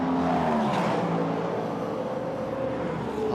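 A Peugeot Le Mans prototype, car 93, rolls into the pit lane with its engine droning steadily under a broad road roar, the pitch easing slightly as it slows. No voices are heard.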